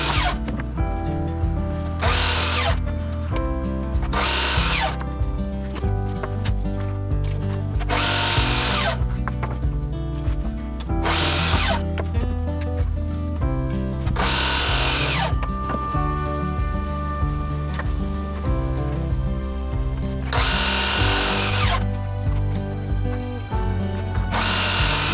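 A power tool cuts wooden pieces for garden lanterns in repeated loud bursts, several separate cuts over roughly twenty-five seconds with a steady motor drone between them.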